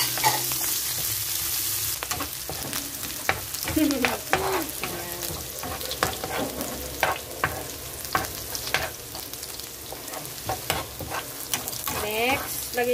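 Garlic and onion sautéing in a pan at home, a dense continuous sizzle with frequent spatula scrapes and stirring clatter, loud and close, with no talk over it.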